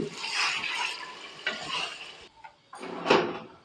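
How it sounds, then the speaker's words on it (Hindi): Water poured into a pot of cooking chana dal with chicken, a broad rushing splash in two long bursts with a short pause, then a final louder gush, close and alone. "अब पानी डालेंगे, पानी गरम किया है मैंने"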